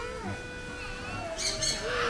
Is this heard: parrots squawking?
yes